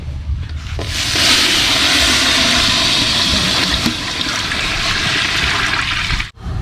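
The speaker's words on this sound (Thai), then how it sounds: "เราก็มาเติมน้ำเลยครับ" Water poured into hot caramelized sugar in a pan, a loud rushing, hissing surge close by that holds steady for several seconds before a brief sharp cutoff near the end.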